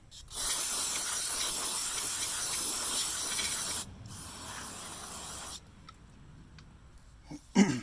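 Carb cleaner sprayed to rinse the throttle body of a 2006 GMC Sierra 2500 with a 6.0L engine: a long, steady aerosol hiss runs for several seconds, then a second, quieter spray burst follows before it stops.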